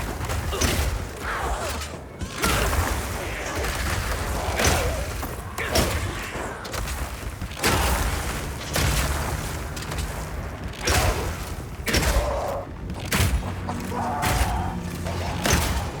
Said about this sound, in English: Now I can fill up this area with ice walls, then shoot them with armor-piercing Burst Shot for a huge amount of damage.